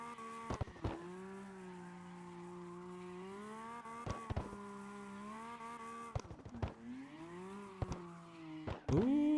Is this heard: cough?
no